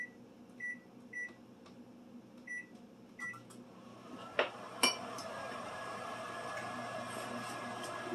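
A microwave oven beeps several times, then its door clicks and clunks, followed by a low steady hum in a quiet kitchen.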